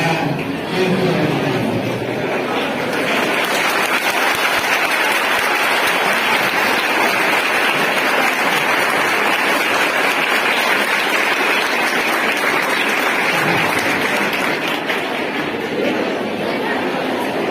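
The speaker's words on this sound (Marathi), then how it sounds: "3 वेळा प्रचंड टाळ्यांचा कडकडाट करून त्यांना उभा करायचा" A large audience at a college freshers welcome applauds loudly and continuously in a dense, sustained roar of clapping that holds steady throughout.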